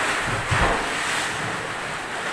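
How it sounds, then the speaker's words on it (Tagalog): Broad, roaring surf with heavy wind buffeting the microphone, one stronger wave surge rising briefly before the steady rush continues. "Kaya nga sobrang lakas ng alon."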